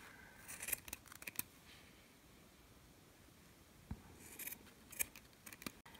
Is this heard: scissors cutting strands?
yes